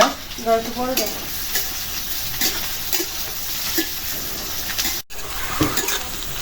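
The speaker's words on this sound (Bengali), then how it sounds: "পেঁয়াজটা ভাজা হয়ে গেছে" Onions frying in a pan make a continuous sizzle with intermittent scraping from stirring and a brief pot clink, moderately loud and steady, no speech.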